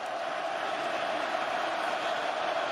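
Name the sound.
football stadium crowd cheering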